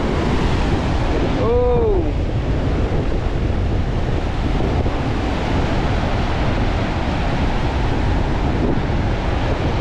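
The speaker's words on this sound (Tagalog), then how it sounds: "Grabe, ang lupit, ang lalaki ng alon." Big waves crash and surge during Typhoon Carina, with a loud continuous roar of surf and wind buffeting the microphone. A person briefly exclaims near the start.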